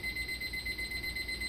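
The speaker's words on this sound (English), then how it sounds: "you can hear my timer going off like crazy." A kitchen timer's alarm beeps continuously in a home kitchen during cookie and caramel making: a steady, high-pitched electronic tone pulsing rapidly and evenly throughout, moderately loud, with no voices.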